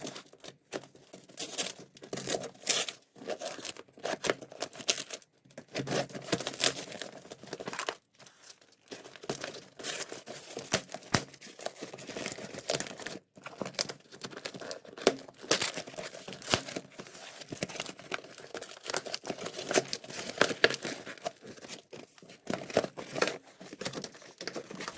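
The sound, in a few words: tearing open and unwrapping a parcel containing a Schleich carriage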